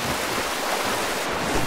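Splashing rush of water in the video game Darksiders 2 as the character jumps in, heard as a broad steady wash of surf-like noise throughout, with no voices.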